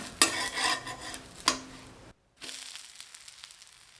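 Moong dal dosa (pesarattu) being flipped on a hot pan: a spatula scrapes and taps twice against the metal over a soft sizzle, with a brief pause before quiet cooking sounds resume.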